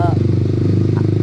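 A Honda CB150R fitted with a Pro Liner TR-1 carbon long exhaust idles with a steady, deep, even rumble, close and loud throughout.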